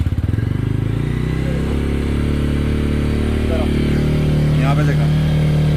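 A motorcycle engine runs close by at a high, climbing idle in the Gauchar fair area in the hills, its rough mechanical drone steady under a man's speech.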